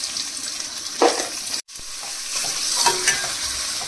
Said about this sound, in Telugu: ఇప్పుడు బ్రౌన్ కలర్ వచ్చే వరకు ఫ్రై చేసుకోవాలి